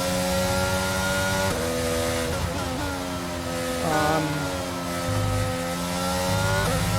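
An F1 racing car engine in the video game F1 22 at Imola, the car carrying engine issues and floor damage, screams loud and continuous, its whine dropping and climbing through gear changes and shifts in revs.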